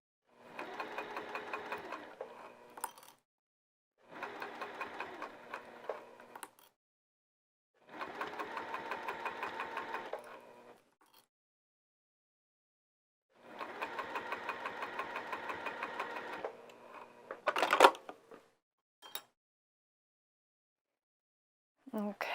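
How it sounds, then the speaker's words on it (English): Sewing machine stitching binding down onto a heart-shaped potholder, running in four steady bursts of a couple of seconds each with short pauses between, close and fairly loud, then a few brief clicks and handling noises at the end. "So let's sew that down."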